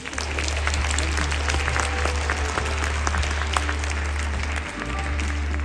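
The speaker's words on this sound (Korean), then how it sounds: "졸업을 앞둔 10명의 친구들에게 다시 한번 큰 박수 부탁드립니다" Dense, sustained audience applause at a children's choir concert honouring graduating sixth-graders, steady and loud over a constant low hum throughout.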